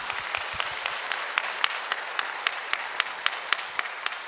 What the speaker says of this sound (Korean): 오늘 오신 분들 세 가지를 한번 환영의 박수 부탁합니다